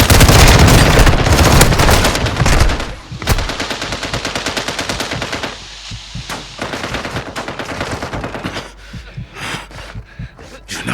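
Heavy automatic gunfire from a Call of Duty Modern Warfare II match, loud sustained bursts of rapid shots with a few booms, dropping to shorter intermittent volleys, no voices.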